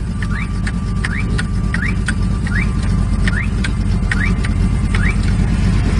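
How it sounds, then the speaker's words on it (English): A 1947 Ford Custom's horn sounds in short repeated honks, about nine evenly spaced blasts over a loud, steady background rumble. "a horn. Watch this."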